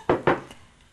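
Lid set onto a cooking pot of sabzi polow rice: two quick close metallic clunks, then a faint small clink as it settles.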